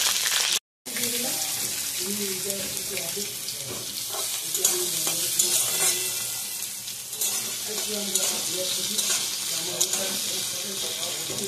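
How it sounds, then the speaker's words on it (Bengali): Black cumin seeds sizzle in hot mustard oil in a pan, a close steady crackling fry after a brief cutout, with soft stirring sounds and light kitchen clatter. "সর্ষের তেলের মধ্যে কালো জিরে দিয়ে দিলাম"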